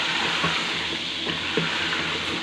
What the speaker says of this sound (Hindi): अब इसके अंदर हम अपने आलू जो हमने काट के और छील के रखे थे इसको डालेंगे और इसको अच्छे से भून लेंगे